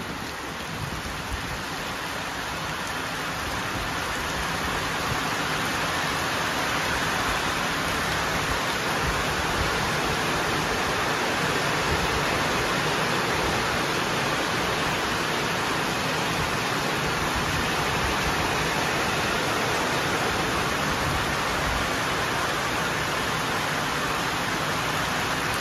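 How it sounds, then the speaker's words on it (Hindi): Heavy monsoon rain pours steadily at a roadside hotel stop during a motorcycle ride on a KTM Adventure, a dense continuous hiss with no voices. "तो अभी जोरदार बारिश हो रही है"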